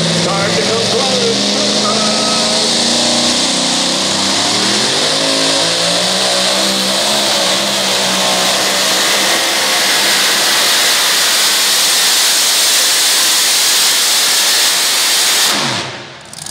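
A two-wheel-drive Chevy S10 pickup revs hard at a truck pull event, its engine loud and close with rising, wavering pitch sweeps for many seconds before it cuts off abruptly near the end, with a voice faintly underneath.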